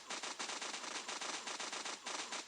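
Rapid automatic gunfire in the mobile shooter Crisis Action rattles in an even, fast stream of shots, faint overall, with a brief gap near the end before it resumes.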